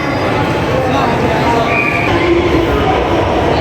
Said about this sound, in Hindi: ये देखें हमारी ट्रेन आ गई है टोकर न्याज़बे की तरफ जाने वाली